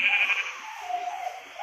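A sheep bleats in a video game, a single drawn-out call that is clear but fairly quiet.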